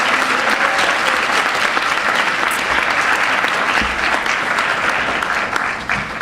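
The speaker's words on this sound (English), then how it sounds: "And that one you can clap for" Sustained applause from an audience at a school district board of education meeting, greeting an individual award winner; dense, steady clapping fills the room throughout and thins slightly at the very end.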